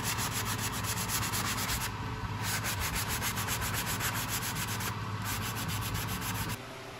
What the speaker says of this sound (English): We're using our power sander here to make our joint invisible.